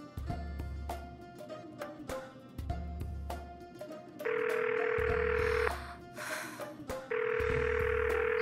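A telephone ringback tone sounds during an unanswered call: two long, steady, loud tone bursts separated by a pause, with softer clicks and low background hum before them.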